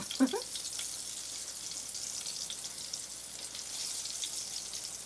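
Chicken of the Woods mushrooms fry in a pan with a soft, steady crackling sizzle that runs throughout, close but fairly quiet, with a brief clunk at the start.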